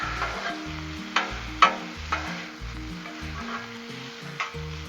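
Bacon sizzles on a low-heat Blackstone griddle, a constant bright fizz broken by a few sharp spatula scrapes and taps as it gets stirred, close up and without speech.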